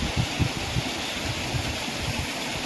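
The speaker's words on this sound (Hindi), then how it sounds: "बड़ा भारी झरना है" Large waterfall at Botalda near Kharsia, Chhattisgarh, roaring as a dense, steady rush of falling water close by, with no break across the whole stretch.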